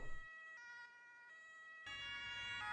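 An ambulance siren in the video game Emergency 4 wails in a stepping, alternating tone, starting moderately and growing louder and fuller near the end, with no voices.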